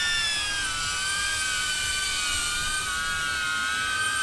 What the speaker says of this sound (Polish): Jest głośny ten dron.